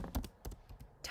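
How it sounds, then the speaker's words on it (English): Keys clack on a computer keyboard while typing a document title in Google Docs, a handful of sharp, separate taps spaced irregularly, close and fairly quiet, with no voices. "Typing"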